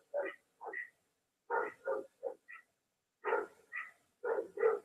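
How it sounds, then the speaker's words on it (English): A visiting dog barking outside, a series of about a dozen short sharp barks in irregular bursts, moderately distant, with no other voices. "There's a second dog out there."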